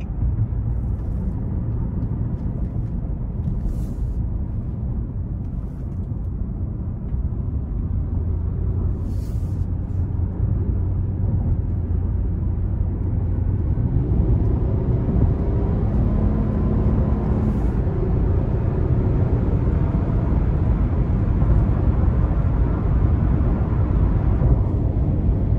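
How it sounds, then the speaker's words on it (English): A 2021 Nissan Murano SL accelerating onto the interstate, heard from inside as a steady low engine and road rumble that swells and grows louder partway through, with faint ticks over it. "So we'll give it some throttle here getting on the interstate."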